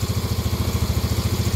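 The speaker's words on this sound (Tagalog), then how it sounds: "Start natin yung makina." A warm motorcycle engine idles with a fast, even, throbbing putter, loud and close, running steadily with no voices over it.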